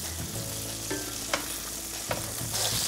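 Lamb steaks sizzle in a hot pan, a close, steady crackling fry with a few sharper pops and a faint hum beneath, no talking.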